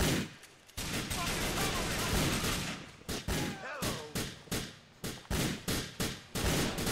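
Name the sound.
gunfire in the video game GTA IV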